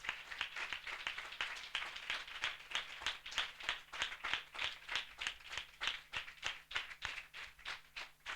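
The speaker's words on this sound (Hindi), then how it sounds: "हम जोरदार ताली से उनका स्वागत करें।" A church assembly audience claps together in a steady, rhythmic beat of about three claps per second, fairly close and sustained throughout with no voices over it.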